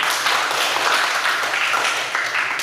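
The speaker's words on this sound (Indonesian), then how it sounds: "Tepuk tangan dulu." Students in a classroom clap their hands together, a dense steady patter of many hands sustained evenly and fairly loud throughout, with no voices standing out.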